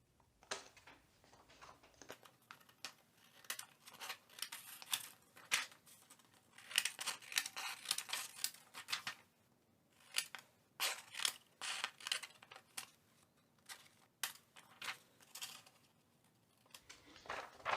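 Scissors snipping paper into strips for a papier-mâché grimace mask, a run of crisp, close cuts and rustles in quick bursts with short pauses between, no talking.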